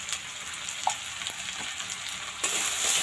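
Spices frying with boiled potatoes in a pan, a steady close sizzle with occasional stirring scrapes, growing slightly louder toward the end.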